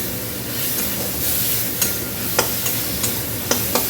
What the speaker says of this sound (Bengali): তরকার মশলাটাকে ভালো করে ভেজে নিই